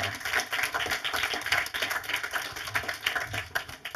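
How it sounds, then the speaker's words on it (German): A lecture audience at a Pasolini film event claps, a dense, steady patter of many hands filling the room at moderate loudness with no speech over it. "herzlichen Applaus"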